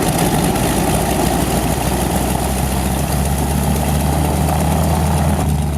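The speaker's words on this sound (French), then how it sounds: "Ce brassage à la main avant démarrage est indispensable pour assurer une bonne mise en route du gros moteur en étoile de 550 chevaux." A North American T-6 trainer's 550-horsepower radial engine runs at a steady idle after starting, a loud, continuous low throbbing rumble with propeller buzz and no talk.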